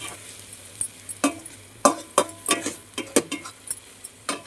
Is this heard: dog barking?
no